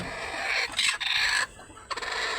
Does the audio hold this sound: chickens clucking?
yes